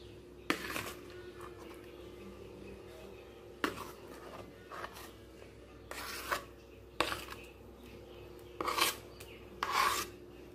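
Palm pulp is worked into semolina batter for palm fritters, giving a handful of separate rasping, scraping strokes spread over a quiet background.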